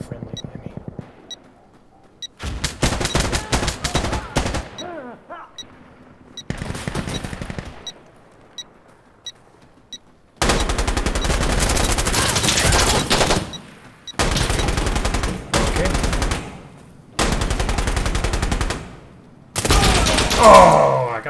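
Gunfire in the tactical shooter game Insurgency Sandstorm comes in several loud automatic bursts of varying length, some long and sustained, with faint pinging sounds and a little talk between the volleys.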